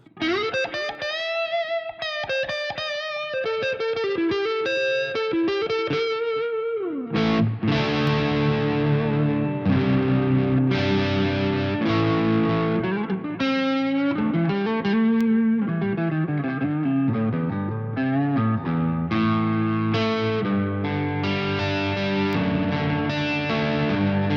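Distorted electric guitar, a PRS DGT SE, playing a lead line, notes ringing out with echoing delay repeats and a spacious wash of reverb, continuous and fairly loud.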